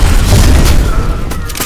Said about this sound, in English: firing war machine.